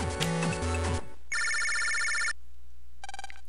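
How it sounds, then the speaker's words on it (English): In the video game Mega Man Battle Network 2, a chiptune jingle gives way to a sustained electronic phone ring, then a shorter second ring after a pause, with no voices over it. "Because that's the sound a phone makes, is ring ring."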